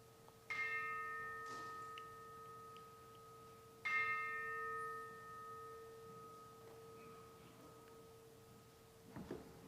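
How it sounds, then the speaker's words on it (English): A worship-service gong rings out after soft taps on its frame, struck twice so long sustained tones swell and hang in a reverberant room, with a fainter knock near the end. "The gong is awakened with a few soft taps to its frame, and then it is struck to release its voice."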